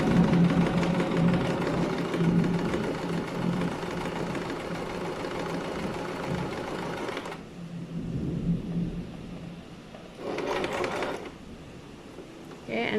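A sewing machine runs a long gathering stitch with a loose setting and no reverse stitching, a steady mechanical whir for about seven seconds that stops, then a short burst of running again near the end.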